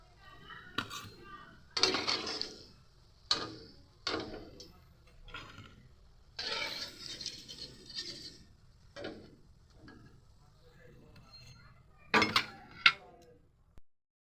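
Pieces of fried vegetarian mock fish, made to look like rohu, lifted one by one out of a frying pan, giving a series of sharp clinks and scrapes of utensil on pan with short bursts of sizzle between quiet pauses.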